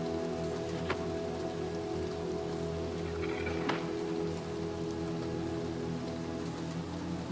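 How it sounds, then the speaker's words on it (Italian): Steady heavy rain pours down in the video game Little Nightmares II, a dense, continuous hiss of drops hitting surfaces, with a couple of faint distant rumbles and no talking. "Ammazza come piove."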